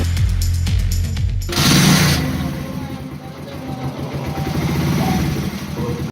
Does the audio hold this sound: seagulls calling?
no